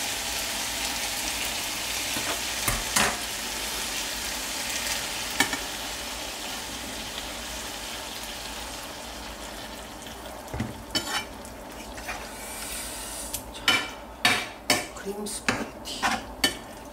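Cooking cream sizzles steadily in a pan for bacon cream spaghetti, and clattering stirring and utensil scrapes against the pan build up toward the end.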